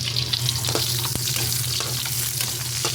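Garlic sizzling in a hot pan while adobo with string beans is cooked, a steady loud frying hiss with occasional clinks and scrapes of stirring, close by and free of talk.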